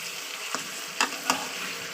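Large chicken leg pieces fry in spiced oil in a home kitchen, giving a steady close hiss. A few soft scrapes of stirring sound across the short stretch.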